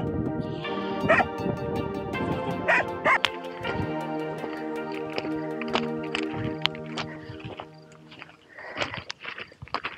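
Several small dogs bark and yip in repeated bursts, fairly close, with some whimpering between barks, encountered along a route during the Trans Balkan Race bicycle event.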